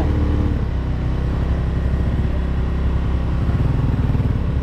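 A motorcycle engine runs close by and pulls away steadily, a continuous low rumble with rapid firing pulses, loud and alone without talk, outdoors on a rural road near a campsite.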